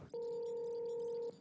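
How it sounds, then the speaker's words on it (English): Steady electronic phone ringtone for an incoming call, a single continuous two-tone trill lasting just over a second, clear and close with no talking. "getting a phone call"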